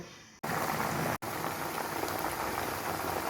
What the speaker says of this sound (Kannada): ನೋಡಿ ಹೇಗೆ ಕುದೀತಾ ಇದೆ ಅಂತ